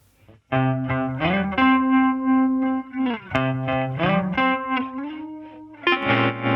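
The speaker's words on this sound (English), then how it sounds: "There's that tremolo sound again." Electric guitar notes pulse with a steady throbbing tremolo, playing a slow lick with sustained tones, loud and upfront with no voices.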